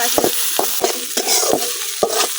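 Ginger, garlic and onion frying in hot oil in a pan, a steady sizzle broken by several sharp scraping stirs of a spatula, close and fairly loud with no talking.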